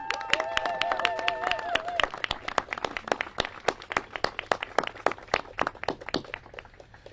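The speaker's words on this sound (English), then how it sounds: "We elected officials want to give all of you a round of applause." Elected officials and a crowd at a Civilian Climate Corps press conference break into a brisk round of applause, dense sharp claps close by that begin over a fading tone and gradually thin out.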